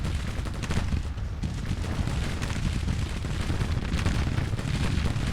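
Continuous musket volleys and artillery fire in a Grand Tactician Civil War battle, dense crackling fusillades layered with deep booms, a steady distant-sounding roar of gunfire with no talk.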